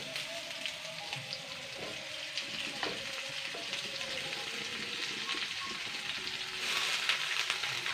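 Chopped bottle gourd tips into hot oil already spiced with bay leaf, dried red chilli and cumin, and a steady, even sizzle of frying runs throughout, swelling louder near the end.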